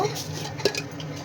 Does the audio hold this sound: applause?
no